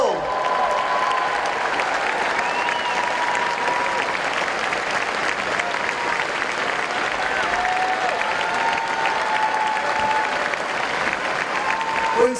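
Sustained audience applause for a Democratic Party award recipient, the party's legal counsel, at an indoor event: dense, steady clapping from a large crowd lasting about twelve seconds at even loudness.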